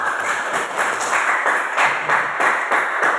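Students in a classroom clap their hands together in a steady, fairly close run of applause that continues evenly for a few seconds, with no voices heard.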